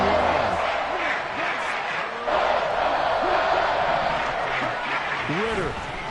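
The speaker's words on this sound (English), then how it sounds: "This crowd turning up the decibel level" A football stadium crowd roars loudly and continuously during a Falcons–Lions game, a dense wash of noise under an announcer's play-by-play.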